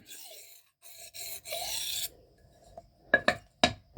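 Short light strokes of hardened knife steel (M398, Maxamet or MagnaCut) rasping across a diamond sharpening stone, a few separate passes, then several sharp scraping hits near the end, close and fairly quiet.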